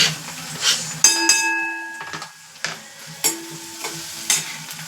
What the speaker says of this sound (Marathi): मग आता हे हलकं झालंय फ्राय आता टाकते याच्यामध्ये लसूण